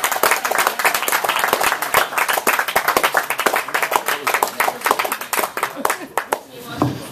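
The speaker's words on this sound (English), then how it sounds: "So please give Nick Johnson a big round of applause." An audience at a Saturday night reading event claps for a featured reader, quick dense claps with cheering and whoops, continuing throughout before tapering at the close.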